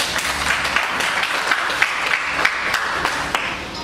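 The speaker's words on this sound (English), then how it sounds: "Clap your hand for the" An audience clapping at an NTI 2021 gathering in Ubiaja: dense, continuous applause of many hands, moderately loud and steady for several seconds.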